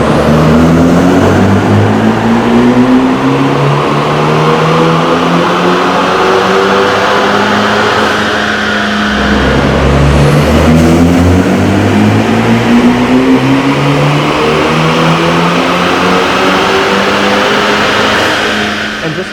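A BMW F30 328i engine runs loudly up close, droning and revving with rising and falling pitch, dipping briefly midway before surging back.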